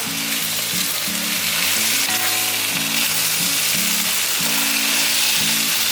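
Eggplant with a big handful of Thai basil stir-fried in a wok without water, a loud steady sizzle and hiss close up, joined throughout by a low, repeating mechanical hum with shifting tones; no speech.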